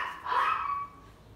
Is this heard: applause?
no